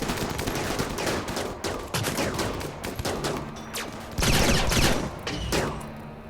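Incendiary launcher fire in the colony game RimWorld, a rapid string of sharp shots and bursts repeating through the whole stretch, loud and close, with a stronger volley partway through.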